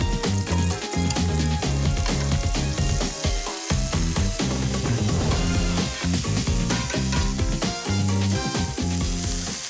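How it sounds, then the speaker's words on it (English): Meat sears loudly in a hot pan for potato chili, a dense, steady crackling sizzle running the whole time with stirring clatter, close up and with no talking. "we're gonna wait a little bit for all the first bunch of meat to get all seared"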